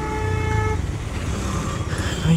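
A car horn sounds in a sustained toot over rumbling road traffic on a highway at night, with another short honk near the end.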